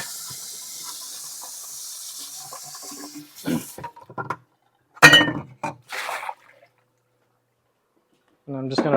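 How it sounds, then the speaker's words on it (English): Running water splashes into a vessel in short bursts, with hissing flow, clinks of the container and a few moments of quiet between rinses. "I'm just going to quick rinse this one out"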